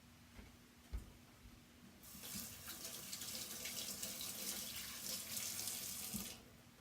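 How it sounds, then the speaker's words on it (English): A sink tap runs steadily for several seconds as hands are washed, a close, continuous hiss of flowing water that starts abruptly and then cuts off. "I'm going to wash my hands"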